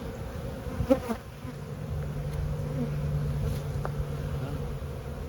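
Dense, steady buzzing of honey bees crowding a busy, thriving hive opened up for a split, a close continuous drone with a few louder individual bees passing near early on.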